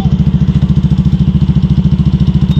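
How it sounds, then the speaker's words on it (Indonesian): A 2018 Yamaha Aerox 155 ABS scooter engine idling cold, not yet warmed up, with a loud, close, rough rapid pulsing chug at a steady rhythm and no other sounds over it. "Nah ini kebetulan memang belum dipanaskan motor saya teman-teman."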